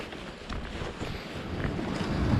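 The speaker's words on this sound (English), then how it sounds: "the waves have come down a bit" Sea waves wash against the Cornwall coast while wind buffets the microphone, a continuous rough roar of surf and gusts that swells slightly louder toward the end.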